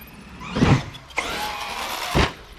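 A Traxxas E-Revo 2.0 electric RC truck drives nearby. Two loud bursts of motor whine and tyre rush are linked by a steadier, fainter whir.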